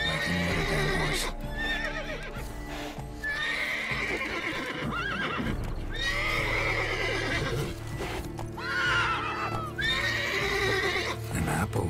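A horse in The Witcher 3 video game neighs and whinnies repeatedly, with clip-clopping hooves and game ambience underneath, the calls loud and close.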